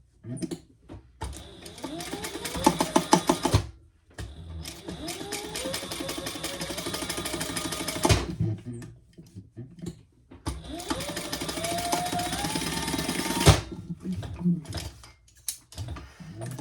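Sewing machine running two rows of stitches across a fabric sling, three long, even bursts of rapid mechanical whirring separated by pauses with quiet handling sounds.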